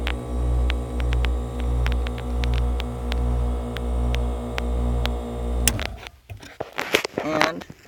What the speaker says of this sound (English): down here, we got our cute little onboard air system.